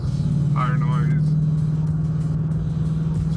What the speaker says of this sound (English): You definitely get like some road noise, tire noise.